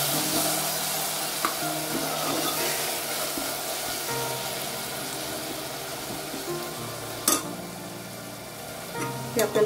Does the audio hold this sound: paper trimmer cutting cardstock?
no